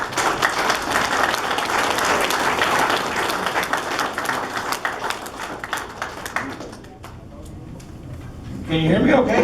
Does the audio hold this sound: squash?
no